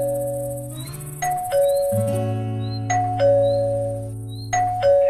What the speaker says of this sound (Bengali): এক টানা 5 বার কলিং বেল প্রেস করেছে সে।